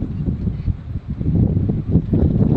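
Wind gusts at Crookhaven Heads around sunset, producing a steady, loud low rumble of buffeting against the microphone that swells and eases slightly without pause; no voices are heard.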